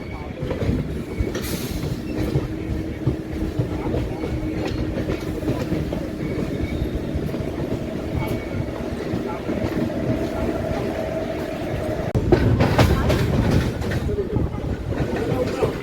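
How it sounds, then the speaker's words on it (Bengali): The Falaknuma Express, train number 12704, shunting at a station, a steady low rumble of moving rail cars with clicking wheels and a burst of squeal near the end, with faint voices in the background. "ফলকনামা এক্সপ্রেস শান্টিং হচ্ছে।"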